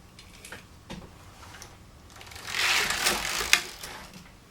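Passap knitting machine knitting a row: scattered light clicks, then a louder swelling whir of the carriage sliding across near the end, close and without speech.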